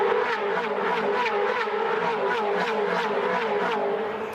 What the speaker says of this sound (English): this snarling field of supercars comes to life again